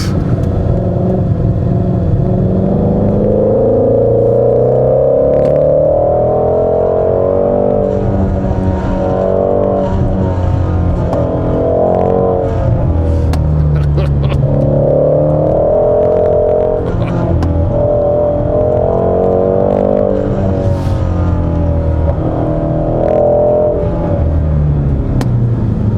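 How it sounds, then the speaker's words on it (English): A 2017 Ford Mustang GT350 V8 engine pulls hard out of a corner, its loud, close engine note rising and falling through repeated accelerations and gear changes over a steady rumble, with no talk. "kind of let it torque its way out of a corner, and then it hits its peak power"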